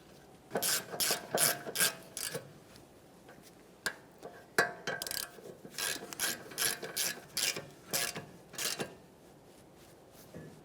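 A ratchet tightens the caliper bracket mounting bolts on a 1994–1997 Honda Accord during front wheel bearing and hub replacement, clicking in quick close bursts with brief pauses between.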